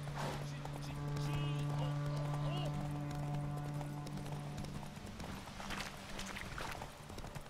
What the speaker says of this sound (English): I could shoot that horse.